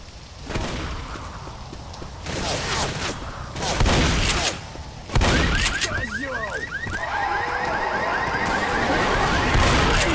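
In the zombie shooter Left 4 Dead, a car alarm goes off amid heavy gunfire: bursts of shots and booms first, then a loud, rapidly repeating electronic whooping alarm continues under more shooting.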